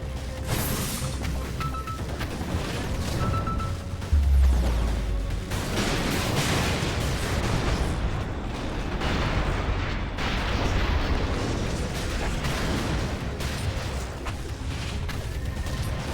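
Dense video-game combat rolls on continuously, with multiple shots of gunfire and missiles going off. Booming low blasts and crashes layer over each other. The level is loud and sustained throughout.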